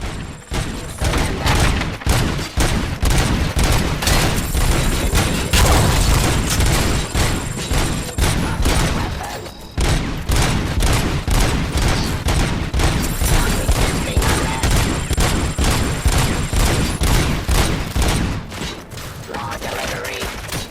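Sustained video game gunfire fills the scene: dense, rapid volleys of loud shots with heavy thumps, one brief lull midway, then the shooting continues unbroken at close range.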